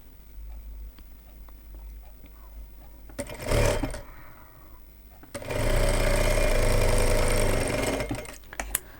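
A sewing machine stitches a blouse in two runs, a short burst followed by a longer steady whir of rapid needle strokes, close and clear in a quiet room.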